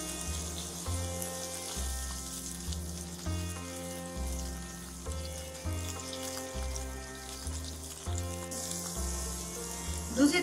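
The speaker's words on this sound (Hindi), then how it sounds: "अब हमने पनीर के पीसेस यानी टुकड़ों को पलट देना है।" Paneer pieces frying in a pan over low heat give a steady, soft sizzle beneath loud, continuous background music.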